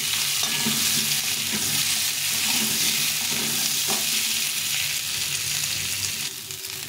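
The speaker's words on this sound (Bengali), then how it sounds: "তেলটা গরম হয়ে গেছে, এখন আলুটা একটু ভেজে নেব।" Potatoes frying in hot oil in a home kitchen, a loud continuous sizzle with scraping stirs of a spatula, close and constant, no talk.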